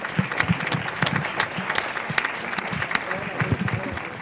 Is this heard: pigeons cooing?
no